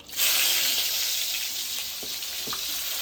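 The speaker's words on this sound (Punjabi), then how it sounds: "ਹੁਣ ਆਪਾਂ ਤੜਕਾ ਲਾਉਣਾ" A tadka of tempering spices hits hot oil and bursts into a loud, sudden sizzle that holds as a steady, close hiss with a few faint clinks, no voices.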